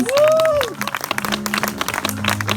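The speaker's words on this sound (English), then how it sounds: "Can we give her a big round of applause, please?" A festival crowd applauds a big round for a speaker, with scattered, uneven clapping building under a tonal sweep and sustained tones from the sound system.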